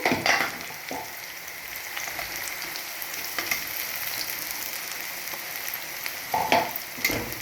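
Onions and ginger-garlic paste fry in a hot pan with a steady broadband sizzle, interrupted by a few louder scraping stirs near the start and end; no one speaks.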